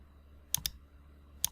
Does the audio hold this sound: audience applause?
no